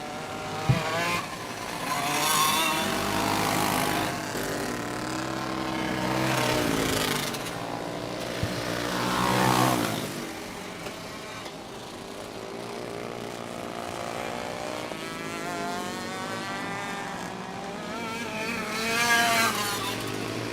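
Racing karts in a Run What You Brung feature event scream past on the track one after another, their high-revving engines rising and falling as they approach and pass, loud and continuous with no talk.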